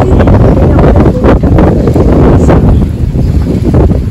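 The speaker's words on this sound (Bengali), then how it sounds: "ওকে, সো আমরা বোট করছি" Heavy wind buffeting a microphone on a boat ride at the Bay of Islands, New Zealand, a loud continuous roar with gusty bursts and faint water and engine noise underneath.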